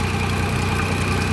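A homemade motor pump's engine runs steadily at a close, loud, even idle, with a continuous low throb and no pauses.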